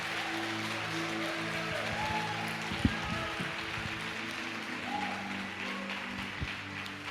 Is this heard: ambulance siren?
no